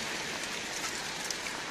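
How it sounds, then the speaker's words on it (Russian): Steady August rain in Magadan falling on a surface, a dense even patter with no voices, heard close by. "Ой, классный дождь."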